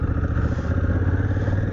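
A Honda Africa Twin CRF1000L DCT motorcycle with 40,000 km, ridden in sport mode, hums with a steady, close, loud engine drone and an even throbbing pulse.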